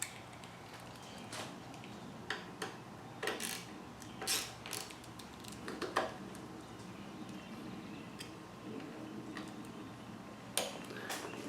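Small mechanical ticks and clicks from a T27 Torx driver loosening the screws on a Harley-Davidson Softail Fatboy clutch lever, sparse and close, with several sharper taps standing out against quiet workshop background.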